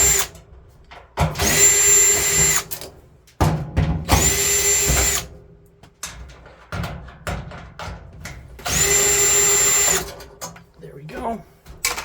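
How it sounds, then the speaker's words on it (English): A power drill with a 1/4-inch socket backs screws out of a Kenmore 90 Series electric dryer, giving three loud whirring bursts of about two seconds each, with someone talking in the gaps between them. "we're gonna switch to our 1/4-inch socket, and we're going to remove the 4 screws"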